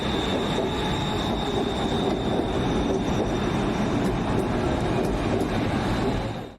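Steady dense rumble and whoosh of the Afrosiyob high-speed train from Tashkent in motion, with a faint high whine running throughout, continuous and even.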